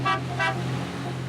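A rescue boat's horn gives two short toots close by, clearing a path through busy boat traffic, with a steady engine hum underneath.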